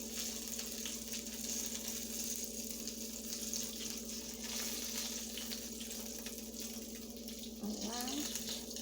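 Battered squash fries in hot oil with a constant fine crackling sizzle and a steady hum underneath, fairly quiet and close, with a brief clatter near the end.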